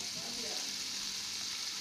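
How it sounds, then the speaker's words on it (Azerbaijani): Sheep tail fat frying in oil in a pan, a quiet, steady sizzle with a fine crackle that runs evenly through the short stretch. "Soğanı tavadan yığırıq və quyruğu yağda biraz qovururuq"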